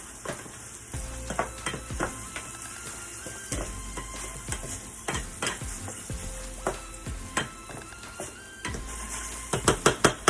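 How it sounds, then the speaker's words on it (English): Shrimp and vegetables sauté over medium heat for a shrimp wonton filling, a steady close sizzle broken by frequent clicking stirs and scrapes that grow busier and louder near the end. "Okay, so now we're cooking. We're sauteing a little bit. Cooking on about a medium heat."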